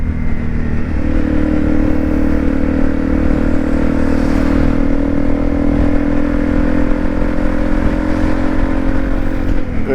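A Honda CRF250 Rally motorcycle runs through snow on a commute, its engine droning loud and steady close by, with a faint scraping clatter underneath and no talking.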